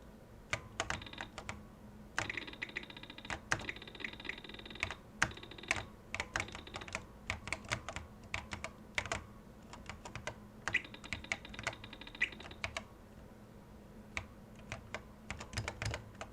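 Keys clatter on an Apple IIe computer keyboard while someone plays a game, with quick bursts of presses and short pauses, close and fairly loud, and no voices.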